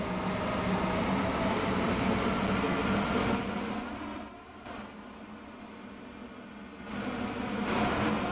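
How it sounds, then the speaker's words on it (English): A train in the Stepford County Railway video game runs steadily with a loud, even rumble and hiss that dips briefly mid-way before rising again, with no voices. "This train is now approaching Stepford East."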